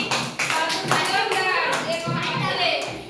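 A group clapping hands together during a class session, a burst of applause under continuous talk and nearby voices.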